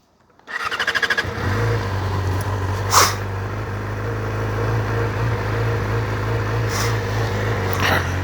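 A 2019 Yamaha R6 motorcycle starts up with a brief cranking stutter, then settles into a loud, steady close-range idle, with a few sharp clicks or squeaks over the engine drone.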